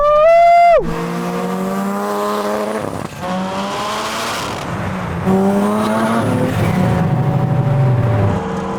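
Cars, including a Honda and a Mazda RX7, launch in a drag race on a runway: a loud countdown-free burst of revving gives way to screaming engines accelerating and shifting, with a second car surging in near the end.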